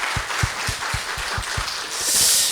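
A church congregation claps at a Friday worship service, a run of loud, evenly spaced hand claps close by, swelling into a broad wash of applause toward the end.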